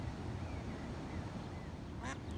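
A duck quacking outdoors beside an old mill house, faint and brief calls heard over steady broadband background noise.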